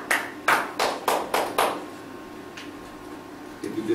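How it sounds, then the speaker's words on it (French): A congregation at a French church service applauds for Jesus with about six loud, evenly spaced claps in quick succession, followed by quiet room tone and a faint tap near the end. "Acclamation pour Jésus."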